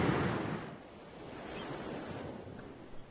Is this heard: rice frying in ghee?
no